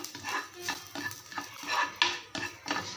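Crushed, peeled garlic sautéed in oil in a pan while making kollu (horse gram) idli podi, stirred with steady, rhythmic scraping strokes over a faint, low sizzle.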